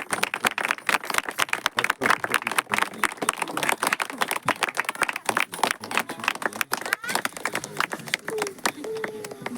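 A standing church congregation applauds in praise of God, a dense, loud, continuous clapping with no gaps, mixed with faint voices.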